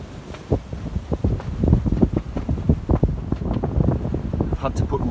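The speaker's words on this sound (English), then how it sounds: "Can't believe how windy it is, eh?" Strong gusting wind buffets the microphone at an exposed hammock campsite during a stormy night out, roaring and rumbling in uneven surges while someone talks over it.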